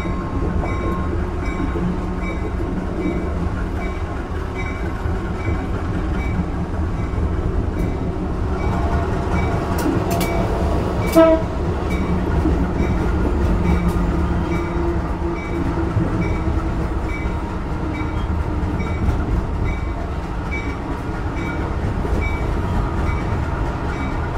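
A Rajabasa passenger train hauled by a white CC204 locomotive rolls steadily past at a station, a loud continuous rumble of wheels and carriages filling the whole stretch, with a brief sharper burst midway.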